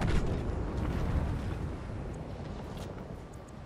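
Gunfire and explosive blasts in the turn-based shooter Gears Tactics, a heavy rumbling burst at the start that settles into a dense, continuous low roar, loud and alone without talk.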